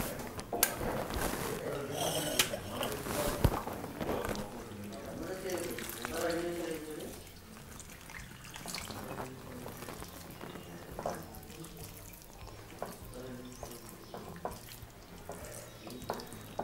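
Water is poured and stirred into dosa batter in a kitchen, making faint splashing and sloshing sounds under a speaking voice.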